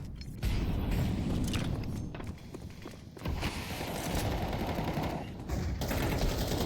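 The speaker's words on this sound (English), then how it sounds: "Ruffleco collects with the AK." AK rifle fire sounds during a Counter-Strike tournament match on Mirage. Rapid, dense bursts of shots, footsteps and game mechanisms fill the clip at steady loudness.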